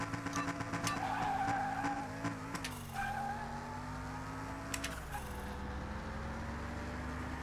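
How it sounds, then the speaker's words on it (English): Racing car in a video game sliding and skidding while dueling an Aston Martin, with a steady engine drone and a tire-squeal screech riding over it throughout; no one speaks. "Looks like we're racing an Aston Martin."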